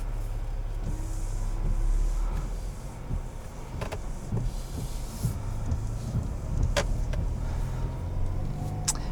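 A 2021 GMC Acadia Denali SUV drives along, heard from inside as a low, steady engine and road hum with scattered clicks and interior knocks, no talking.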